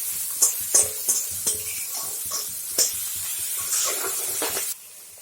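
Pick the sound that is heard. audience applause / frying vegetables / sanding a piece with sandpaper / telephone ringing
frying vegetables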